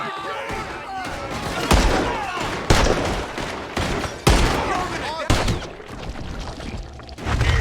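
Heavy gunfire in a Red Dead Redemption 2 shootout: loud, close shots crack at irregular intervals over a rumbling battle din, with people shouting throughout.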